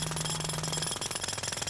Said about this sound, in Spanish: En primer lugar, el martillo taladrador